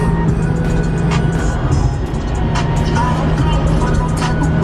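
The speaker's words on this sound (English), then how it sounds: "I'm just driving to Shelburne right now." Steady engine and road drone from inside an Acura RSX being driven, a constant close rumble with a faint tonal hum running throughout, no voices.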